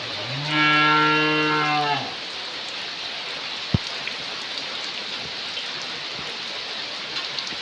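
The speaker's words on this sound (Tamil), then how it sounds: "எங்க ஊர்ல சரியான மழையா இருக்கு காலையில காலையிலேருந்து சரியான மழை" Heavy rain pours steadily outdoors in a rural village under a red-alert downpour, a constant broad hiss throughout, with a cow lowing loudly near the start and a sharp knock or drip midway.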